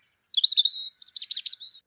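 Birds chirp nearby in quick, bright tweets: a high whistled note, a wavering trilled phrase, then a run of four sharp chirps ending in a short trill, clear and alone with no voices.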